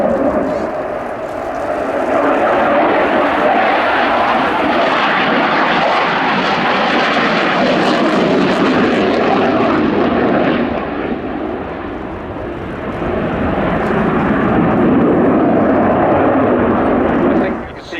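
A MiG-21 LanceR fighter jet flying at the Royal International Air Tattoo airshow, a loud continuous engine roar that swells and sustains for the whole stretch, dipping briefly before building again, with speech faintly beneath.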